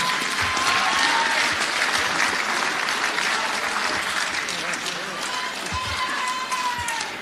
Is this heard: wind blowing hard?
no